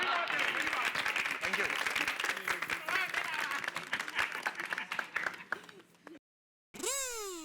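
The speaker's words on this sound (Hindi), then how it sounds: "तालियां तालियां।" Studio audience applause at a Hindi TV comedy show shoot, a dense burst of clapping that fades out before a brief silence, with a short spoken thanks over it.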